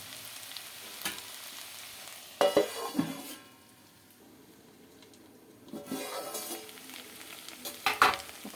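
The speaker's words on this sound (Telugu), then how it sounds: "ఒకసారి కలుపుకుందాము." A spoon scrapes and stirs potato curry with ginger paste cooking in a pot, with sizzling underneath. The scraping comes in two bursts separated by a quieter simmering pause, close and moderately loud.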